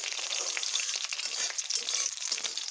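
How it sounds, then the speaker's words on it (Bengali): Green chillies and black cumin fry in hot oil for an arum leaf dish, giving a steady, close crackling sizzle with small popping bursts throughout, no voices. "কাঁচা লঙ্কা ও কালো জিরেগুলোকে একটু ভালো করে ভেজে নেব"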